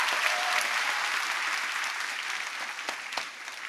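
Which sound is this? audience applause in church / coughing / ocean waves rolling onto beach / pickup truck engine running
audience applause in church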